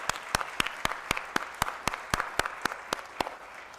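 A business audience at a shareholder meeting claps in a steady, moderately sized round of applause with regular distinct claps, fairly close.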